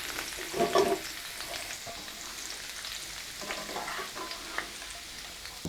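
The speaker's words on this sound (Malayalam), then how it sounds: "ഈ എണ്ണയിൽ തന്നെ കുറച്ച് കറിവേപ്പിലയും കൂടി ഇട്ടിട്ട് നമുക്കിന്ന് പൊരിച്ചെടുക്കാം" Curry leaves crackling in hot oil left from frying pakoda, a soft continuous sizzle with a brief louder spatter burst near the start, fairly quiet and alone.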